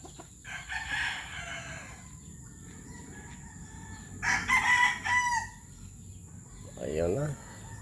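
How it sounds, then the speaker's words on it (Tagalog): Chickens and roosters on a farm cluck and crow, with a couple of clear cock-a-doodle-doo calls rising out of soft clucking; the birds sound close and moderately loud, alone without talk. "pinatuka ko na yung mga manok ko guys"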